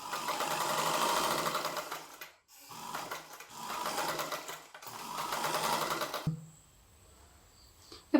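Sewing machine stitching folded fabric, running in three bursts of steady rapid stitching with short pauses between, fairly close and alone, ending in a brief click after the motor stops.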